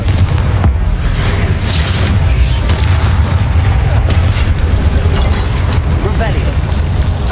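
A Confringo blasting spell explodes in the video game Hogwarts Legacy, giving a loud, punchy boom with sharp bursts over a steady low rumble of game ambience.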